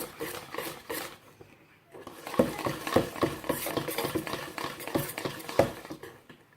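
Cake batter for a fraisier is stirred in a bowl, giving a steady run of scraping, sloshing and light tapping of a utensil against the sides, close and moderately loud, with a short pause early on.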